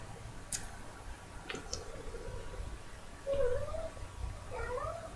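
A cat gives two or three drawn-out meows at close range, rising and falling in pitch, with a few light clicks earlier and a faint steady hum in the room.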